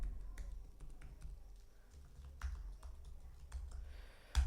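Computer keyboard keys tapped in quick irregular bursts while entering a password to log into a VPS server, close and fairly quiet, with no talking.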